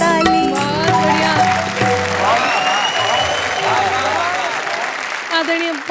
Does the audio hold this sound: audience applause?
yes